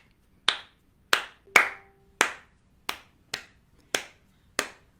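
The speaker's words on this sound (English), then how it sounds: "so you can clap along if you don't have a shaker" Eight sharp hand claps at a steady, moderate beat, bright and close, each ringing briefly against a quiet room with no voice over them.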